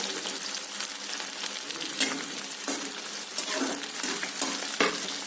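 Dried chillies, bay leaves and five-spice seeds crackling in hot oil for pigeon curry, a steady close sizzle with sharp pops and a few stirring clinks.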